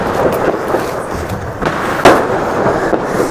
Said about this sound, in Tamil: பட்டாசு அங்க வெடிக்குது